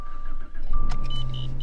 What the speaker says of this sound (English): I'm gonna warm this car up right now, so it's not as cold for this install.